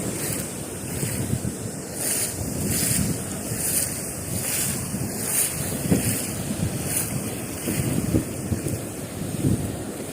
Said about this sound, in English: Ooh, that wind is getting worse.